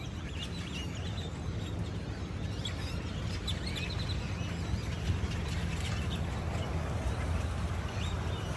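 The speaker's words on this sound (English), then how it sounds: "thousands of birds just making noise" A dense, continuous chorus of many birds calling and chattering at once, loud and unbroken, with a low background rumble.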